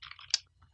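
A short burst of computer keyboard typing, several quick close keystrokes with one sharper click, heard alone without speech.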